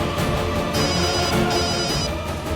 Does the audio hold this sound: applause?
no